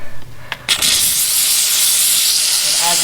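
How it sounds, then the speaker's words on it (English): A steam cleaner spraying steam onto a car wheel to clean it without chemicals, a few short clicks and bursts, then a loud, steady close hiss that continues to the end. "apply a little bit of steam to it"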